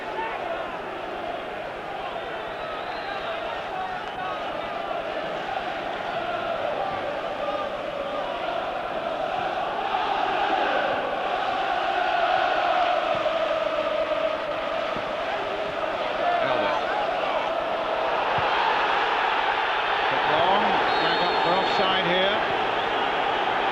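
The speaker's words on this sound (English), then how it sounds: "The crowd were howling." A large crowd at an Arsenal v Newcastle League Cup quarter-final rises into a sustained, swelling howl, with a commentator's voice over the stadium roar.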